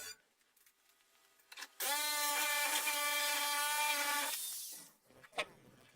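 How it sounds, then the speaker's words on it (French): Electric metal shears cut through a VW T5/T6 van body panel for a window opening, giving a loud, steady high-pitched mechanical whine that lasts about two and a half seconds and then stops abruptly, with quieter handling noises before and after. "voici la cisaille électrique en action et comme vous pouvez le constater, elle produit une coupe nette et rapide"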